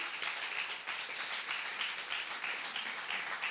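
A church congregation applauds together, a steady wash of many hands clapping at moderate volume, somewhat distant, continuing through the moment without voices on top.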